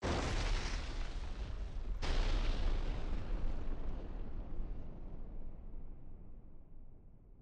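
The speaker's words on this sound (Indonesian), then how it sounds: "Unit artileri menghantam pusat komando dengan tembakan langsung" A single heavy artillery boom from direct fire on a command post hits near the start, then a long rumbling roar that slowly fades and decays over several seconds.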